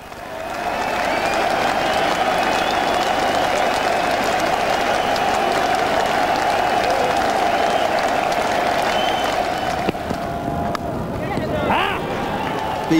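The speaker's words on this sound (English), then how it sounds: "people were still clapping" A large cricket crowd at a Test match in the Caribbean applauds a departing batsman, a broad, sustained roar of clapping that continues for many seconds, with a commentator's voice over it.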